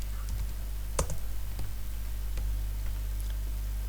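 A computer keyboard being typed on, a handful of sharp, separate key clicks spaced irregularly over a quiet background hum, close and fairly soft.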